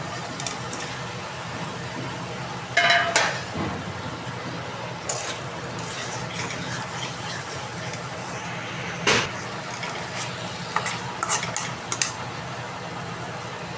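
Fish slid into a spiced green-chilli curry sets off a low, steady sizzle and bubbling, with clatters and scrapes from stirring at a few points.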